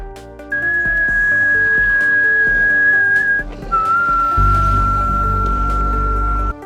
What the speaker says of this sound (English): Suddenly a familiar whistling sound comes